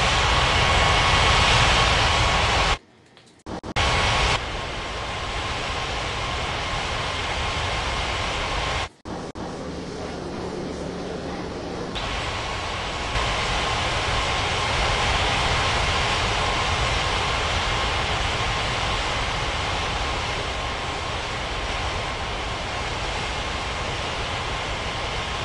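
An airliner lands on runway 35 in the Unmatched Air Traffic Control game at Paradise Island airport, a steady loud engine roar broken by two short drop-outs and then continuing evenly to the end.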